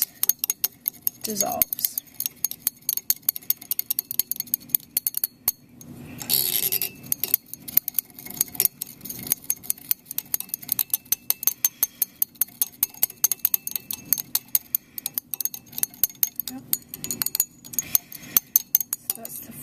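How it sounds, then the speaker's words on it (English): A glass stir rod stirs a solution to dissolve a solid, making rapid, repeated close clinks and taps against the glass container, with a brief voice speaking early on and a short noisy burst midway. "we'll use our stir rod to stir that up to make sure all of the solid substance"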